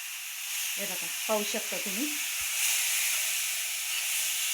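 Dill greens sizzle in hot tempering oil in a home kitchen pan, a steady bright hiss running the whole time while a person talks over it in the middle.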